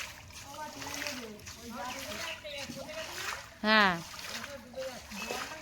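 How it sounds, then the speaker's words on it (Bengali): Water splashed by hand in a village pond where many fish have died, a steady wet splashing and sloshing running through the clip beneath people talking nearby. "জলের ছিটে মারো"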